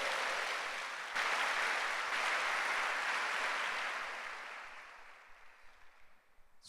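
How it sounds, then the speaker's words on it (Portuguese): Church congregation applauding at a congress of El Shaddai churches, a dense sustained clapping that swells after the first second, holds steady, then thins and fades away toward the end. "Dá um aplauso aí ao Senhor."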